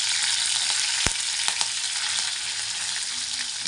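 Garlic and curry leaves sizzling in hot oil, a dense, steady crackling fry with a few sharp pops and spoon scrapes, close and alone without voices.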